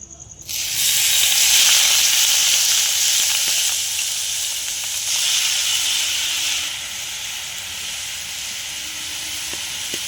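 Beetroot hitting hot oil in a wok gives a loud, steady sizzle and frying hiss that begins abruptly and keeps up for several seconds, easing slightly toward the end, with no talk.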